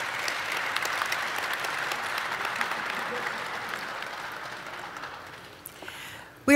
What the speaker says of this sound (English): Let's give them all a wonderful round of applause